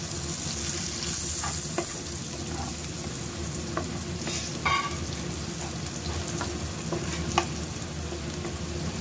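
Onion, garlic and dried chili fry in a pan with a steady, moderate sizzle, punctuated by occasional stirring scrapes and spatters, and no voices.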